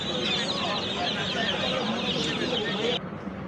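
Chickens cluck in a dense, steady chorus at a pigeon and poultry market, with crowd noise and voices mixed in. The sound drops off suddenly near the end.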